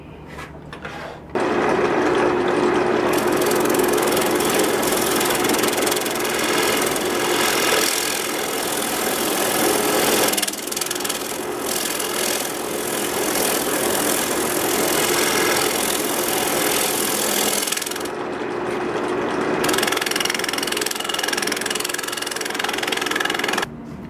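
A spinning wood lathe hums with a steady mechanical drone while sandpaper rasps continuously over the edge of a turning wooden sanding disc, stopping briefly near the end.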